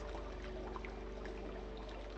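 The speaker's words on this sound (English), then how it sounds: "They have this beautiful water feature." A decorative garden water feature at a plant nursery trickles and splashes steadily, a soft continuous flow under a low background hum.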